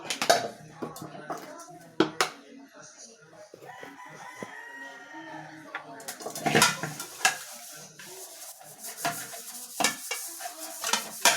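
Scrubbing the inside of a long-unused kawali (wok) that was stored outdoors, before cooking cassava chips: intermittent scraping and clattering of metal, with sharp knocks, a rooster crowing nearby, and brief voices in the background.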